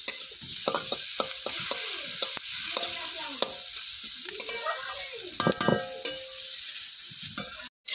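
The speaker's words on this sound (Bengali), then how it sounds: "আলুগুলো এভাবে ছোট ছোট করে কেটে নিয়েছি লবণ হলুদ দিয়ে সুন্দর করে ভেজে নিই" Small-cut potatoes frying with salt and turmeric in a pan, loud close sizzling with frequent scraping and clattering stir strokes throughout, ending in a brief cutoff; no one speaks.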